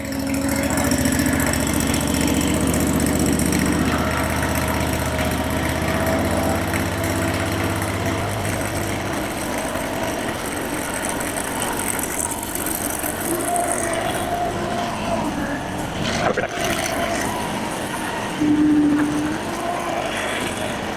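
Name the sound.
mini skidder engine started with key and choke, idling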